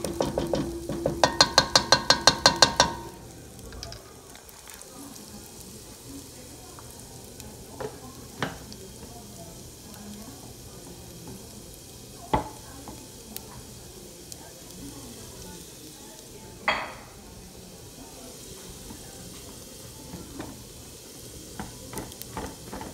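Red rice frying in a pan gets a burst of brisk, rhythmic stirring and scraping for a few seconds, then settles into a faint, steady sizzle broken by occasional isolated clicks of the utensil.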